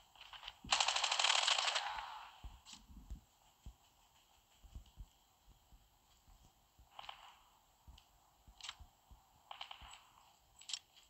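Machine gun fire from the mobile shooter game Call of Duty Mobile: a long loud burst near the start, then scattered shorter bursts and single shots of varying loudness, alongside faint footstep-like clicks.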